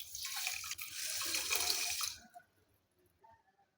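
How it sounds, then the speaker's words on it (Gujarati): Water pours in a steady stream into a 200 ml measuring cup for making sugar syrup, close and clear for about two seconds, then stops, leaving a few faint sounds. "4 કપ ભરીને આપણે પાણી લઈએ"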